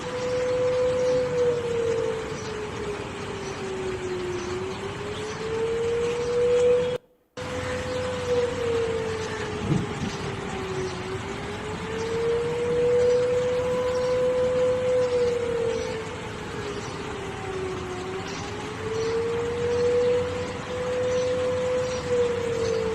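A siren in Pakistan wails steadily, its pitch rising and falling in slow repeating cycles, loud and continuous over a constant background hiss.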